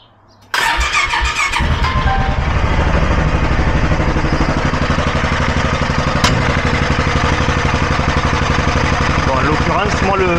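A Polaris RZR 570 side-by-side engine cranks and catches after a brief quiet moment, then settles into a steady, loud, close idle with a rapid even rhythm for the rest of the clip.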